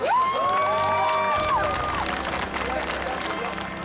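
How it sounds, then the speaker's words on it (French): Game show audience cheering and applauding after a round win, with a sustained sung or shouted voice over lively crowd noise and clapping that continues at steady volume. "On peut les applaudir, hein?"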